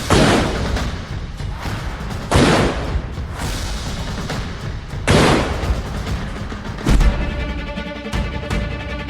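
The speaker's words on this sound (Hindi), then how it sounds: "और ये देखिए इस वक्त राउंड और ये है इंडियन फील्ड गन की" Indian field gun firing rounds outdoors, heavy booms landing every couple of seconds, four or five loud blasts each trailing into a long rumbling echo.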